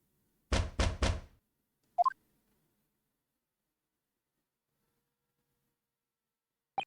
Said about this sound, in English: I was woken by the unreserved knocking on the door by the telegram boy